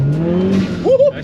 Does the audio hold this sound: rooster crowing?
no